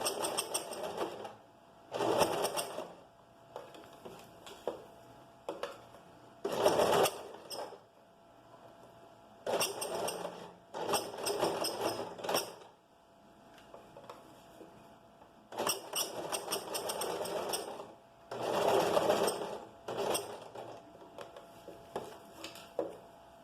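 A sewing machine stitches a curved seam on an A-line skirt in repeated bursts of fast whirring, each a second or two long, separated by quiet pauses as the fabric is guided along.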